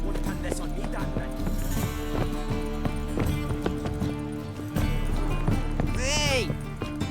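Horse hooves clip-clop at a gallop in The Witcher 3, a steady rhythmic beat heard under spoken game dialogue and background music, with a brief whinny-like call near the end.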